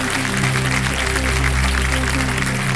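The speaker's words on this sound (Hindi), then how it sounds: "अर्चना जी, एक बार फिर आपका स्वागत तालियों के साथ कर रहे हैं।" A studio audience on the quiz show Kaun Banega Crorepati applauds steadily to welcome an expert, the clapping spread evenly over a loud, sustained musical background.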